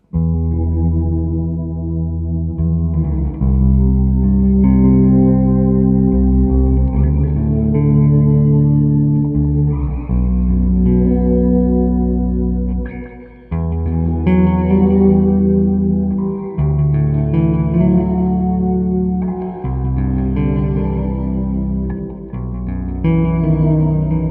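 A Yamaha BB434 bass guitar plays low sustained notes washed in reverb, echo and chorus, forming a loud, swelling ambient drone that shifts between chords.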